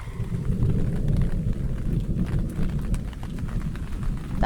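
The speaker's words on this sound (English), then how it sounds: "That was the thunder." Low, continuous rumble of thunder rolling through a steady Florida rainstorm, filling the whole stretch with dense low-end noise and no voices.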